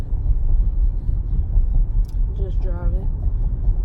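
A V8 car driving on a suburban city street, heard from inside the cabin as a steady, loud low rumble of engine and road noise throughout, with a brief voice-like sound near the end.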